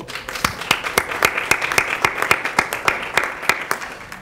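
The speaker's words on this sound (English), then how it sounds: "So I'd like to give him a round of applause." An audience applauding at a county commissioners meeting, a brisk, fairly close burst of many hands clapping in quick uneven rhythm for several seconds.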